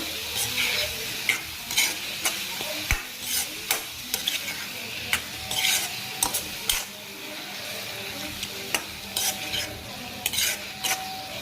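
Mushrooms cook in a pan with a steady sizzle while a utensil stirs and scrapes, giving frequent sharp clinks and scrapes against the metal throughout, with no voices.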